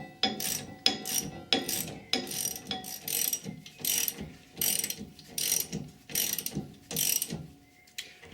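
Repeated ratcheting strokes of a spanner tightening rear suspension bolts on a Triumph Vitesse during renovation, about a dozen close, rhythmic bursts of metallic clicking with short pauses between them and no talk.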